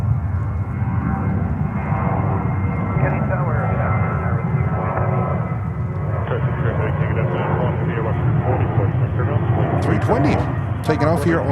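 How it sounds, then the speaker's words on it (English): A JetBlue jet takes off from runway 22 right at a busy airport, its engines a steady, loud broadband roar that holds throughout, with a speaking voice on top. "Taking off here on 22 right."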